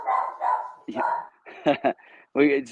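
Dogs barking in a few short, loud bursts between stretches of someone talking, the barks standing out near and sharp after the speech.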